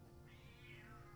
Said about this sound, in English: Kitty is howling.